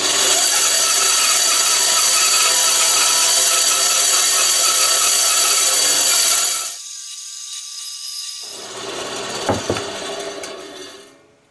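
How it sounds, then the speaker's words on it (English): A bandsaw cuts through wood for a mailbox post, its loud, steady buzzing whine running for about six seconds before the blade winds down and a few soft knocks of handling follow. "Now let's go ahead and cut that out on the bandsaw."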